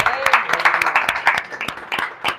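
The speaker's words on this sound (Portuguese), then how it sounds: "Se crê, aplaude bem forte ao Senhor." A small gathering at a home worship service claps for the Lord, with a handful of distinct, irregular hand claps close by and some voices mixed in.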